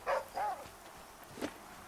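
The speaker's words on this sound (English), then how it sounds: "Shut up, dog." A dog barks in the video game The Flame in the Flood, two quick close barks followed by a softer yip, brief and fairly clear.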